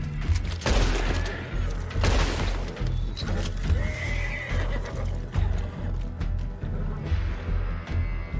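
A horse in the video game Red Dead Redemption 2 gallops and whinnies, with loud repeated hoofbeats, sharp neighs and scattered game effects mixed throughout, steady and close.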